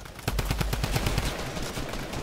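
Rapid bursts of automatic gunfire in an arena shooter video game, a dense run of evenly spaced loud shots that thins out after about a second into a steady noisy wash.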